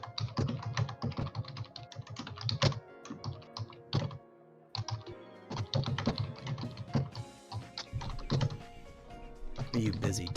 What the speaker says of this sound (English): Are you busy typing away over there?